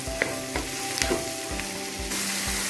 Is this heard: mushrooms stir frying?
yes